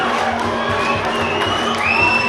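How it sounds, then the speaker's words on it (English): Dense crowd cheering and roaring fills a rugby grand final between the Tupapa Panthers and Ngatangiia Sea Eagles in 2019, a steady, loud wash of many voices with scattered whoops throughout. "Crowd goes wild."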